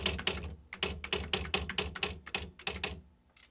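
Rapid clacking keystrokes from a manual typewriter, loud and close, striking in quick uneven bursts with brief pauses between runs.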